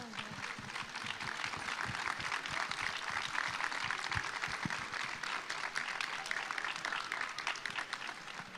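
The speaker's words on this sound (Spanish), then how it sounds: "Un aplauso." Applause from a festival audience at a talk on Selk'nam people memory, a steady dense wash of many hands clapping throughout, fairly loud and sustained with no speech over it.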